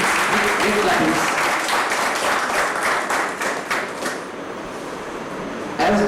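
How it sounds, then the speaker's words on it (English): Audience at a BARC Tarapur felicitation function applauds Shri APS Menon, sustained clapping that thins after a few seconds before a brief swell at the end, with some voices underneath. "please bring your hands together and give him a great applause to Shri APS Menon"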